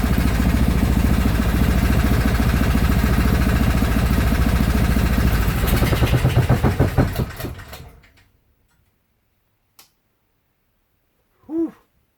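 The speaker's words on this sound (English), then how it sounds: "But we got ourselves a running motor." A freshly repaired snow blower engine runs loud and steady in an enclosed space, then sputters and dies out, leaving near silence broken by a faint knock and a short high squeak.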